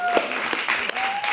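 Audience applause at a community event rises as brief, lively clapping, close and moderately loud, with a faint sustained tone running under it.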